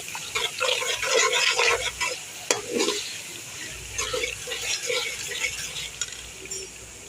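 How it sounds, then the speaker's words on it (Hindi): Whole spices (black pepper, bay leaf, star anise, cinnamon, dried coriander, nigella and cumin) sizzle and fry in a pot while being stirred, a steady close crackle with scraping stir sounds for vegetable pulao, with faint background voice. "इनको डाल के अच्छी तरह भून लेंगे"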